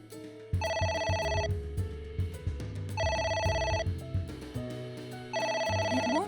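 A ringing phone in the video game AI: The Somnium Files chimes in three repeated bursts over in-game music, each a bright electronic trill lasting about a second with pauses between.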